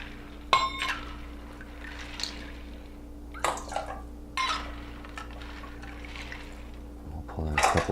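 Brine liquid is scooped out of an ice cream maker bucket, giving scattered splashes, pours and watery sloshes with brief clinks, separated by quiet pauses over a faint hum.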